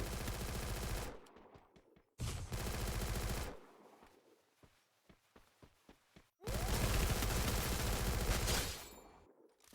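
Rapid automatic gunfire in the Free Fire MAX video game comes in loud, dense bursts: a long volley, a short one, then sparse single shots before another sustained barrage.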